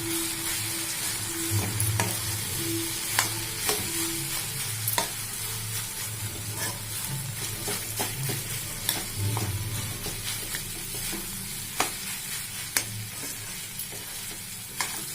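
Veg fried rice is stirred and tossed in a hot pan, a continuous sizzle punctuated by repeated scraping and knocking strokes of the spoon, with no voices.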